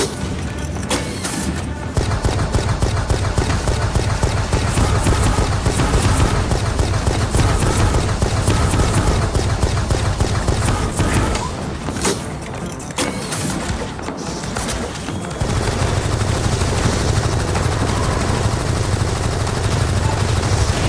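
Rapid automatic gunfire rattles almost without a break in the video game Firefall during a tornado event, loud bursts running in a dense stream that pause briefly around the middle before starting up again.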